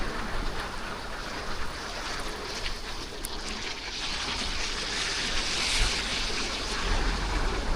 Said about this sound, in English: you can see the water coming down the ramp to the upstairs part